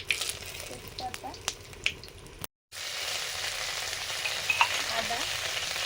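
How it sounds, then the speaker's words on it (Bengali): Whole cumin, dried chilli and bay leaf tempering in hot mustard oil give a steady close sizzle with scattered crackles and pops, briefly cutting out before the frying hiss resumes, louder and denser. "ফোড়ন দেবো সর্ষের তেল, গোটা জিরে, শুকনো লঙ্কা, তেজপাতা"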